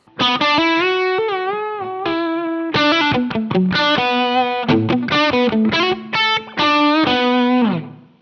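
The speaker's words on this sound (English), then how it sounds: "Now let's hear some lead tones with the drive pedal nearly maxed out." Overdriven electric guitar plays a lead line through a drive pedal nearly maxed out, a mix of sustained bends and quick staccato notes, thick with distortion and ringing out loud.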